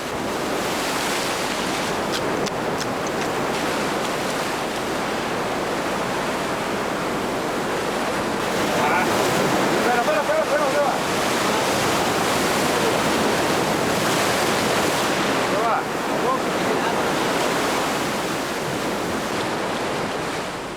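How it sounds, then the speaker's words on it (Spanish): Ocean waves surge against coastal rocks at night during manual mussel and crab gathering, making a continuous broad roar of surf that swells slightly midway, with no voices. "Por eso, Eulogio le avisa continuamente de los movimientos bruscos del oleaje para que no le coja el agua por sorpresa y le arrastre al interior."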